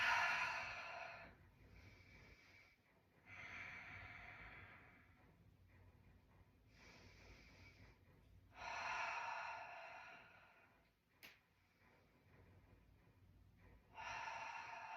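Slow yoga breathing while standing in mountain pose: soft, quiet breaths in and out, with about five gentle airy swells and near-silent pauses between them.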